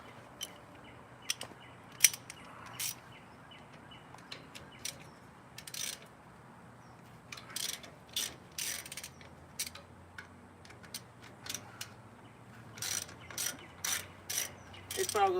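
Ratchet wrench loosening 9/16 bolts on trailer brakes, heard as intermittent bursts of quick metallic ratcheting clicks, fairly close and moderately quiet, with short pauses between bursts and no talking.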